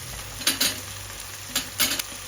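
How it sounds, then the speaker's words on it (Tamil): Tomatoes, carrots and beans sizzle while they sauté in a pan for bisi bele bath, steady frying in the background broken by several short scraping bursts as a spoon stirs them, close by with no talking. "தக்காளி கொஞ்சம் நல்லா வதங்கட்டும். கேரட்டு, பீன்ஸ் எல்லாம் போட்டுடலாம்."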